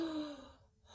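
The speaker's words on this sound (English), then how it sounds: "When I'm mad and I know it, I take a breath." A single short breath drawn in sharply, close and brief, fading quickly into quiet.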